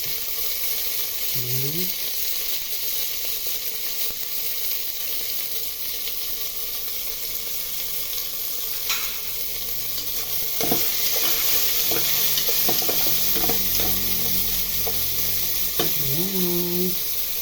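Tomatoes dropped into a hot pan for pork liempo sinigang sizzle steadily while a spoon stirs and scrapes, with a voice briefly speaking over the frying.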